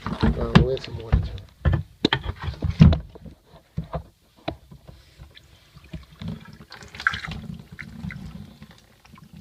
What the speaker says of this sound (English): We'll add some water to it.